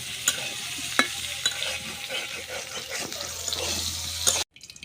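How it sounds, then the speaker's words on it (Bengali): Potatoes, boiled quail eggs alongside, frying in a pan during rural cooking: a close, continuous sizzle with clinks and scrapes of stirring, a few sharp taps, then sudden silence at the end. "এখন আলুগুলো একটু ভেজে নেব।"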